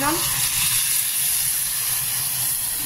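Potato and paneer sizzle loudly in a hot pan as warm water is poured in, a steady close hiss of steam and frying that fills the whole moment without pause.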